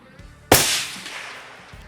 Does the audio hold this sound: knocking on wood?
no